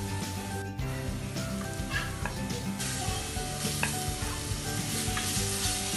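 Ginger garlic paste sizzles loudly in a pressure cooker while it is stirred, a dense and continuous frying hiss with scraping from the stirring. The sound is close and alone for about six seconds.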